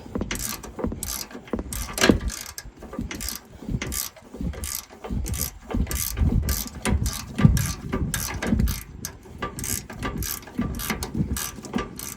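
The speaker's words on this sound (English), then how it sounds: "You don't have to have a gear wrench, but it helps." A gear wrench clicks rapidly while turning a Teflon locking nut during front suspension repair on a 2013 Ford F150, giving close, rhythmic ratcheting strokes in repeated bursts with no talking.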